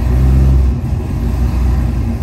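A car engine rumbles loudly close by, a deep low-pitched growl that swells, dips briefly, then builds again, with no voices.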